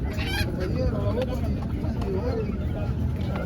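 Roosters for sale at an animal market cluck and call in the background amid steady outdoor noise and people talking nearby.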